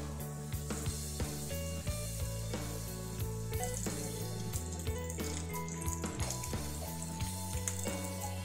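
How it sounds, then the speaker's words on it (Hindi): Aloo kabab coated in bread crumbs frying in hot oil, a steady close sizzle with soft bubbling pops throughout, with no talking. "अब मैं इसको 1 बाय 1 फ्राई कर लूँगी।"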